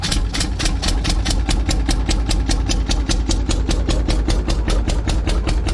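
A loud Minneapolis Moline tractor engine with a straight pipe idles with a rapid, throbbing exhaust pulse, steady and close, with a harsh rumbling tone throughout, at a steam and engine show.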